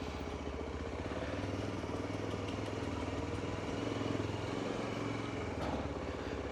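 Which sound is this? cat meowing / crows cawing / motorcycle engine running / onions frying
motorcycle engine running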